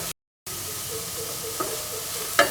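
Onions sautéing in a pan with spice powders such as garam masala, a steady soft sizzle and hiss running throughout after a brief silence, with a small clink of stirring near the end.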